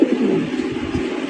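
A blue satin pigeon in a room full of the same breed gives low, continuous throaty cooing. The sound is moderately loud and close against a hum of ambient noise, with no talking.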